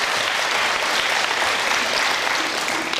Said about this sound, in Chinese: 我们再给他一个掌声